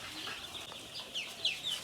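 A domestic country hen on a farm clucks a few times in quick succession, close and moderately loud, in a brief, unaccompanied burst.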